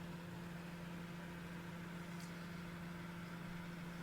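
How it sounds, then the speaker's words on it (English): A microwave oven hums steadily while heating a red Thai hot seasoned vegetable and chicken soup, a constant low drone with faint background hiss and no talk. "I need to heat it in a microwave."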